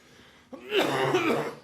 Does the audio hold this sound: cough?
yes